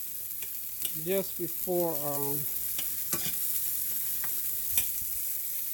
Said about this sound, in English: saute these up a little bit